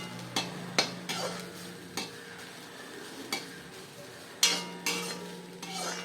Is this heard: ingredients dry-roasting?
yes